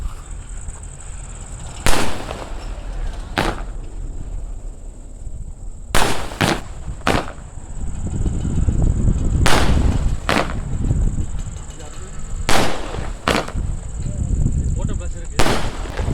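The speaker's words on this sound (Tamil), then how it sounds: "காய்ஸ் தேர்ட்டி ஷாட்டு செமையாக இருக்குது இந்த பட்டாசு" A thirty-shot firework cake bought from a cracker shop in Kulathur goes off in loud, sharp reports spaced unevenly over about sixteen seconds, each followed by crackling bursts, with a steady hiss and faint voices in the background.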